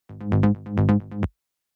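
Processed through Ableton effects, a Serum mid bass plays a short phrase of three swelling grouped notes with brighter, filtered peaks. It stays moderately loud, then cuts off cleanly, with no voices.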